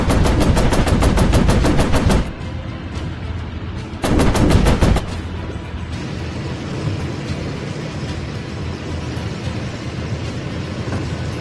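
Rapid machine gun fire from a warplane in the night mission of Warplanes: Battles over Pacific, loud bursts of dense staccato shots with a short break, then a lower steady engine roar.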